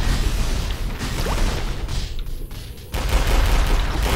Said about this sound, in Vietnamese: Tia laser bắn ra từ Floricam.